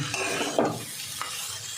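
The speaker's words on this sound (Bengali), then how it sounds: "এবার আমি এর মধ্যে ভেজে রাখা মাছের মাথাগুলো দিয়ে দেবো, দিয়ে একটু মিশিয়ে নেব। 2 মিনিট একটু কষাবো।" Fried fish heads being stirred and sautéed in oil in a pan, a soft sizzle with a couple of quick scraping stirs and light utensil clinks, brief and close, with no talk.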